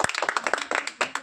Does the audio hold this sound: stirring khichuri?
no